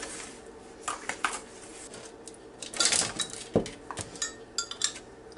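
Metal utensil clinking and scraping against a bowl of lemon orange bundt cake batter in irregular bursts, with a few sharper knocks, fairly close and no talking.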